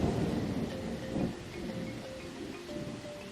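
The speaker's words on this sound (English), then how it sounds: "Listen closely so that you can hear the thunder." A thunderstorm outdoors gives a steady wash of heavy rain under low, rolling rumbles of thunder that swell and fade, with no voices present.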